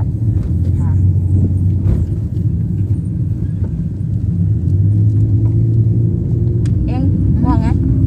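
Car driving on a road on a melon delivery run, heard from inside: a loud, continuous low engine and road rumble fills the whole stretch, with occasional voice-like sounds over it.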